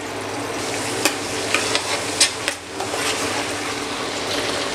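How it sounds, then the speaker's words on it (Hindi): Garlic ginger paste frying in hot oil in a kadai, a steady close sizzle with a few utensil scrapes and taps while it is stirred. "कढ़ाई में हमने 1/2 कप तेल को गरम कर लिया है और अब हम डाल देंगे 1 टेबल स्पून लहसुन अदरक का पेस्ट"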